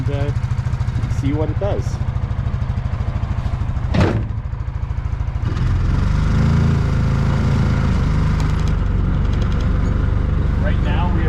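The engine of a Coleman Outfitter 400cc UT400 UTV, already warmed up, chugs steadily while driving in two-wheel drive, a loud close rumble that swells as it picks up speed, with brief talk partway through.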